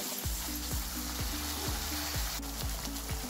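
Spices sizzling in hot oil with curry leaves for egg curry, a soft steady frying hiss beneath a rhythmic repeating musical pattern, close and continuous without speech.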